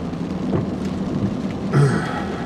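Steady rain hisses and patters throughout on a nasty day, heard from inside a Yukon, with a low rumble and a brief heavier swell near the end; no one speaks.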